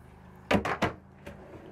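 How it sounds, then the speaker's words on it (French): Large self-closing drawer in a Tiffin Allegro Bus 45LP motorhome sliding shut on its own, giving three quick close thumps in a row, followed by a fainter knock, in a quiet interior. "Ici, vous avez des beaux grands tiroirs."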